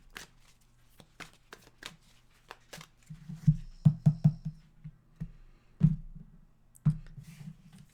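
A deck of tarot cards is shuffled close up, with quick riffling bursts and soft slaps of cards settling at an uneven rhythm over eight seconds, no talking.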